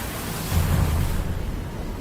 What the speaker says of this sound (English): Oh, it's the ocean.